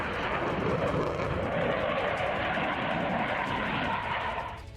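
A Gripen fighter jet flies past with a loud, continuous broadband engine roar that holds steady throughout and eases off slightly at the end.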